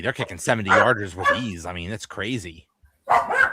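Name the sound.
dogs barking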